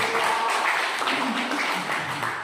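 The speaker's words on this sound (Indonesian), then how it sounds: "Tepuk tangan dulu." An audience claps at a military religious lecture gathering, a steady, dense wash of applause filling the whole stretch at fairly loud volume with no break.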